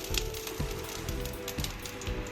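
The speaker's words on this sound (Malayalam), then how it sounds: "കടുക് ഇട്ട് കൊടുക്കാം" Mustard seeds crackle in hot oil for a South Indian vendakka mutta thoran, a dense steady spatter of small pops with a few soft recurring thumps, fairly quiet and continuous without voices.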